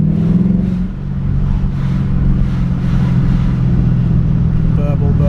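A car's engine burbles at a car show, a deep, steady low rumble that stays loud and close throughout, with faint voices in the background.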